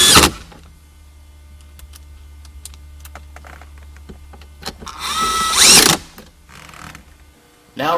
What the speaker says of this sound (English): Reinstall the 2 screws in the center vents.